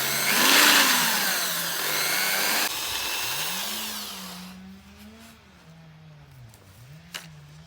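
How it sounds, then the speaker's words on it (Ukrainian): A handheld household mixer whirs loudly as it stirs an orchard spray solution, its motor pitch rising and falling before it winds down, leaving a quieter, wavering drone. "Обов'язково добре взбовтати саме нашу робочу рідину. Я використовую господарський міксер."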